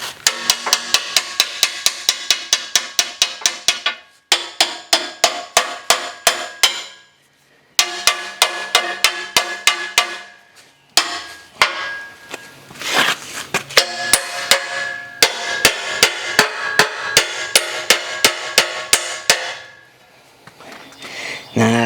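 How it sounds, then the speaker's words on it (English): Loud, close hammer strikes on metal parts of a heavy recovery winch ring out in rapid rhythmic runs, broken by short pauses between bursts. "Let me get a hammer."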